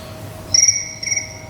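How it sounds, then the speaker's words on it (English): Crickets chirp in two short, high, pulsing bursts about half a second apart, clear and fairly close over a quiet background with a faint steady hum. "And of course we've got crickets."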